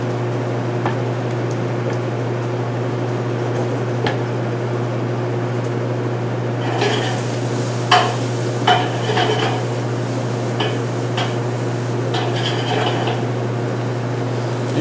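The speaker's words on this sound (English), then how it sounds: "to get mixed in so it looks like a nice mess of wet bread" Wet bread dressing with sage, carrots, celery and onions is stirred and mixed, giving soft squelching scrapes and occasional utensil knocks over a constant low kitchen hum.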